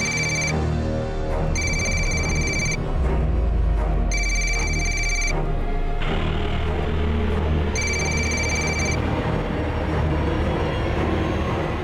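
A telephone rings in repeated bursts over a loud, continuous rumble of a moving train, the electronic ring sounding close and clear.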